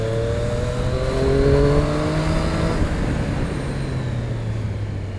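A 2019 Triumph Street Triple RS motorcycle accelerates hard, its engine note climbing in several rising sweeps through the gears, loud and close with no talk.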